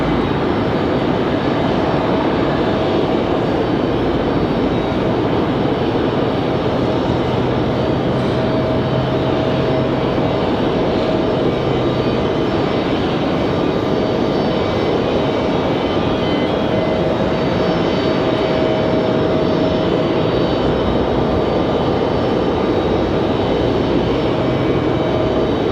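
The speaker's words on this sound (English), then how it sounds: "you guys enjoy the startup of the Dreamliner" A Boeing 787 Dreamliner starts its engines at Raleigh-Durham airport, a continuous loud roar with a steady tonal whine running through it and no talk.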